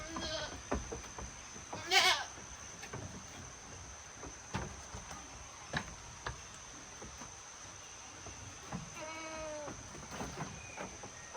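Goats bleating at a small goat pen in a Sri Lankan village: several separate bleats scattered through the clip, some close and loud and others farther off, over a steady insect buzz with no talking.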